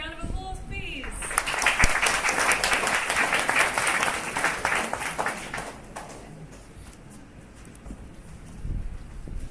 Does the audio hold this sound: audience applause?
yes